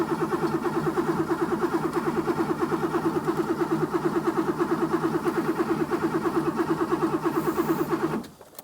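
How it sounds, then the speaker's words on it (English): Classic Porsche 911 barn find, its engine cranking over on the starter without firing: a steady, rapid rhythmic churning that runs evenly for about eight seconds, then stops abruptly. "we're now going to turn it over and see if we get it to fire"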